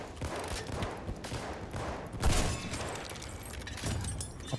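Video game battle gunfire with anti-tank rocket shots: a steady rattle of distant-sounding rifle and machine-gun fire, punctuated by a heavier thump near the middle and a few sharper reports later.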